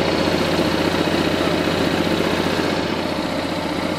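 A small petrol engine runs steadily after being restarted with a little fuel in the cylinder, a dense, continuous mechanical drone close by with no voices.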